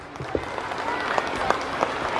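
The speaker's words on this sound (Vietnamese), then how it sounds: "Một tràng pháo tay cho các bạn nào." Audience applause at a primary school year-end award ceremony in District 3, a steady wash of many clapping hands with a few sharper claps standing out across the whole stretch.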